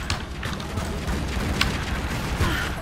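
Grenade blasts in the Tomb Raider Legend video game come as a cluster of dull booms and crackling bursts, fairly loud, layered over steady game ambience.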